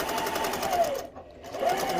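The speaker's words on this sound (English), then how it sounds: "I am just sewing nice and easy." Sewing machine running steadily while chain piecing fabric, a close, even mechanical hum and needle clatter that dips briefly before picking back up.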